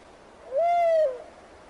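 A single clear owl-like hoot rings out once, about half a second long, over quiet night ambience at Eulsukdo.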